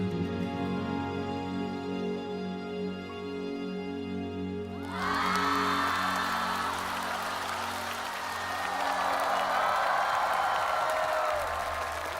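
A studio audience at a Chinese televised singing show, The Treasured Voice, erupts as sustained music cuts off. Loud crowd cheering and applause follow and swell for several seconds.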